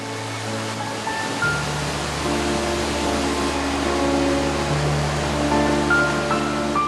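Cool water from a valley stream rushes in a steady, even hiss, continuous throughout and unbroken by voices, with a faint low hum beneath.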